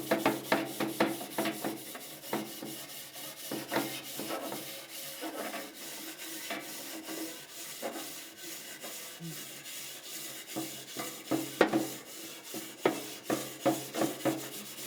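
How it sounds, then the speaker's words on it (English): Wooden-handled wire brush scrubbing built-up grease off barbecue grill grates, heard as close, rapid rasping back-and-forth strokes in quick bursts with short pauses, alone with no talking. "I'll give it a good run on the grates and see how it handles built-up grease."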